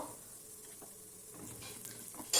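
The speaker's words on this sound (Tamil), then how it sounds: "அந்த பருப்பு உளுந்தம் பருப்பு வரமிளகா எல்லாத்தையும் ஒன்றா போட்டு ஃப்ரை பண்ணிக்கலாம்" Urad dal lentils and dried red chillies fry together in a pan for a white radish chutney, giving a quiet, close sizzle with occasional soft stirring scrapes.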